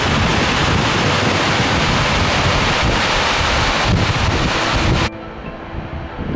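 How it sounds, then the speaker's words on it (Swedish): Fagrifoss waterfall in Iceland pours as a loud, broadband roar with heavy wind buffeting the microphone, then cuts abruptly near the end to a quieter, rumbling outdoor ambience. "Fagrefoss är, precis som namnet antyder, ett vackert fall."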